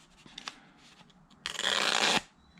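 A freshly sharpened vintage Mathieson & Sons jack plane blade slices through scrap printer paper: faint rustles and taps, then a loud, continuous crisp swish of cutting and tearing paper lasting under a second, close by.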